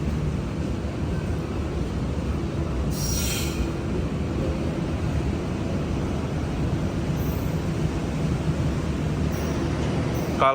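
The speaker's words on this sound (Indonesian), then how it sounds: "ini tuh rangkaian kereta api Arjuno Express yang menggunakan armada kereta api Brawijaya dari Malang tujuan Surabaya Gubeng ya" The Arjuno Express train, run with Brawijaya stock from Malang to Surabaya Gubeng, rumbles at a Surabaya station platform with a steady low rolling drone and brief high wheel squeals.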